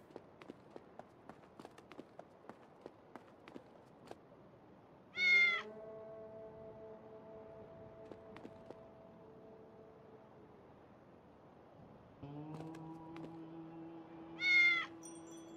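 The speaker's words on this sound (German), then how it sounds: "Katze! Ja, eine sehr große Katze." A large cat meows in the puzzle adventure game Lost in Play. Two loud, clear meows about nine seconds apart sit over quiet ticking sounds and soft sustained music tones.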